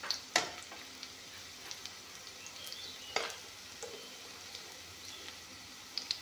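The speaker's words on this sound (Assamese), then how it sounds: "এয়া চাওক, পিঁয়াজখিনি ধুনীয়াকৈ ভাজি ল'লোঁ।" Chopped onions frying in a pan while cooking dried flatbread with black gram pulp, giving a steady soft sizzle with scattered small pops and crackles, faint and close, no talking.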